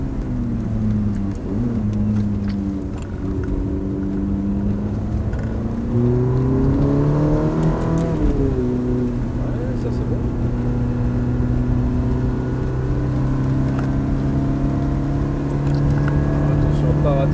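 A Ferrari F430 accelerates around the Lohéac circuit, its engine note climbing and shifting pitch in rising sweeps with a sustained whir, while an instructor talks over the engine.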